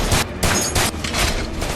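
Gunfire during a bunker firefight in a film: loud, close bursts of rapid shots come in several clustered volleys over less than two seconds, dense and booming with no talk.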